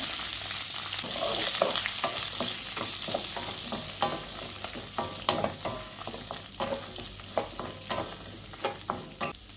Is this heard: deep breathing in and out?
no